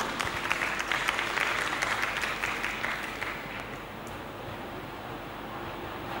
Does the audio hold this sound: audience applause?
yes